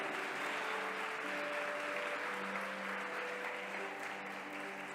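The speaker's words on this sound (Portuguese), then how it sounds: "Dá um aplauso para Jesus" A church congregation claps steadily through a worship service, dense, even applause that holds at a constant level, with faint sustained musical tones from the musicians preparing beneath it.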